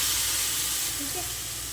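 Whole spices and mixed masala for a jackfruit curry roast in a pan with a steady, soft hiss and sizzle, fairly quiet and continuous throughout, with no talking.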